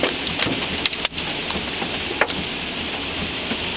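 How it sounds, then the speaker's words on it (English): Hail pelts down hard during a Toronto hailstorm, a loud dense crackling roar with scattered sharper impacts throughout and no pause. "Crazy hail in Canada."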